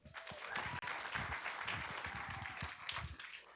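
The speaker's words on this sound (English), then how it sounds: "Let's give a big round of applause for these outstanding school staff" Applause at a city council meeting in Tempe, moderate clapping from a modest room audience, fairly even throughout and somewhat distant.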